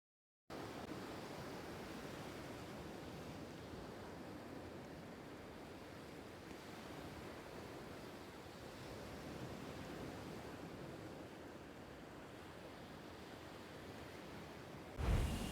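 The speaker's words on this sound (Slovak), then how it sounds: "Už počujem more." Steady ocean surf in a Roblox game rolls on as a continuous, even wash of noise for several seconds, with no talking and a brief louder bump at the end.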